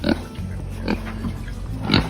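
A pig grunts near a feeder in a few short, close snorting bursts with faint background noise between them.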